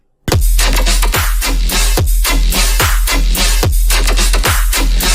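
Synth patch built in Serum, played without core speed automation: loud repeated electronic notes with punchy kicks at a steady pulse, a note about every 0.8 seconds over a sustained bass, bright and dense throughout, no talk.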